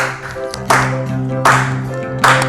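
A group claps together in time with music at a Black History Month gathering, three crisp, evenly spaced claps ringing out over a steady tonal backing.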